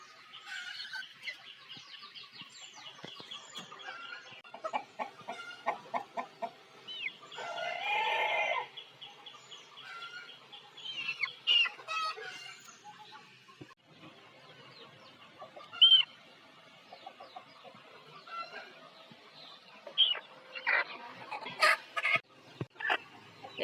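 Desi chickens cluck steadily nearby while a rooster crows several times, with bursts of calls spread across a busy barnyard scene.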